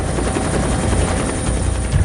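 A helicopter's steady, loud rotor and engine roar fills the whole stretch without a break, close and constant, with no voices.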